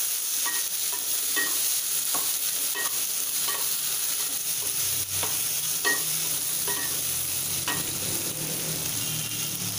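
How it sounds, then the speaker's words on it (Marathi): Tomatoes sautéing in a pan for a fresh cashew curry, a steady close sizzle with repeated sharp scraping stirs of a spatula at an irregular rhythm, no talking. "हे 1 मिनिटभर असे परतून घ्यायचे आहे।"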